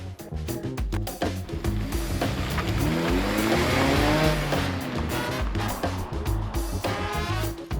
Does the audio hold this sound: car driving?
yes